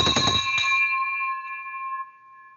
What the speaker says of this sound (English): Victory bell engaged.